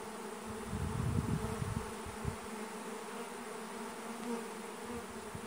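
A honeybee afterswarm pours out of a hive outdoors, a dense continuous buzzing hum that holds steady throughout, with a louder close pass of bees early on.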